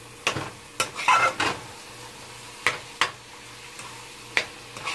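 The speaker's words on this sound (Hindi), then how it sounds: "मिक्स करते वक्त बिल्कुल भी ना घबराएं, इसमें कोई भी ऐसी चीज नहीं है जो टूट जाएगी, आराम से इसको मिक्स कर सकते हैं।" A spoon scrapes through grated carrot halwa mixed with khoya in a pan, giving around seven separate stirring strokes over a faint, steady low hum, with no talking.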